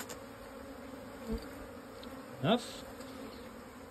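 Honey bees buzz during a package bee install, a low, steady hum of many insects with two brief, louder passes close by. One short spoken word comes through.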